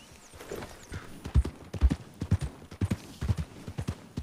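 Horse hooves clip-clop steadily in Red Dead Redemption 2 as the rider heads out: a close, rhythmic series of loud hoof strikes building into a regular trot, with faint ambient game sound and no talk.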